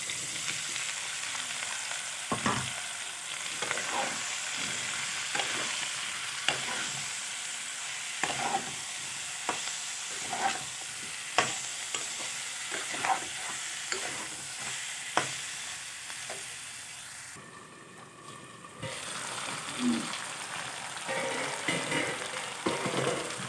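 Green jackfruit and potatoes sautéing with spices and onion in oil, a continuous close sizzle broken by regular sharp stirring knocks and scrapes, with one brief pause near the end.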